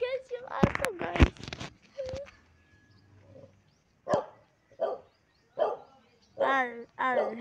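A dog in a garden gives a few short barks and yips, spaced out and fairly close, with people talking over the first part.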